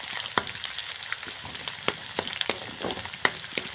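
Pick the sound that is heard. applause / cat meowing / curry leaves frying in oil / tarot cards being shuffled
curry leaves frying in oil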